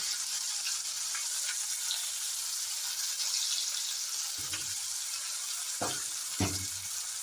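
Onions and tomato fry in a pan for a Bengali chicken curry, a steady soft hiss with a few low clanks of stirring near the end.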